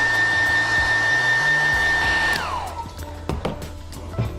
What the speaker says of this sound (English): I'm going to quickly dry that with a hairdryer again to speed up the process.